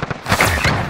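Gunfire in Call of Duty: Modern Warfare multiplayer: a few quick, sharp shots up close, followed by a denser burst of bangs, with no talking.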